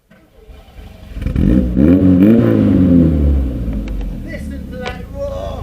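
A car engine starts and roars through a Long Life exhaust, swelling into a loud, rumbling rev that rises and falls over a few seconds before settling to a steady idle.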